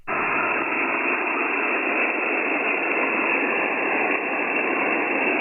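Hiss of HF radio static on a receiver tuned across the 15 meter amateur band, a steady, loud, band-limited rush that runs unbroken for the whole stretch with no voices.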